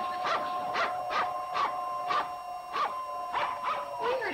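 A dog lets out a run of high, whining whimpers and short yelps, repeated roughly every half second in an uneven rhythm, close and fairly clear, with no voices present.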